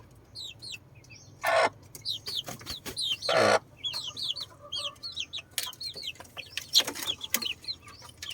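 One-month-old crossbred native chicks from Mindanao cheep and cluck softly outdoors, with a steady scatter of thin peeps and a few louder bursts from a nearby chicken or rooster, close and continuous.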